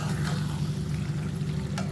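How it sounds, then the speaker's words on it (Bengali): Small pieces of beef for a bhuna beef curry hitting a hot pan, giving a dense, steady sizzle and crackle with a low hum beneath, near and continuous. "করে কেটে রাখা গরুর মাংসটা আমি এখন দিয়ে দিব"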